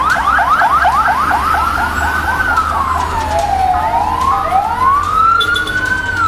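A loud wailing fire engine siren rises and falls nearby, first in quick warbling bursts and then in slower sweeping tones, over low traffic rumble, at a four-storey shophouse fire in Tangerang, Banten.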